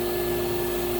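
A Thermax AF120 vacuum runs with a Plastiflex-style hose attached, a steady close motor whine with strong airflow hiss and a fixed tonal hum, unbroken for the whole second.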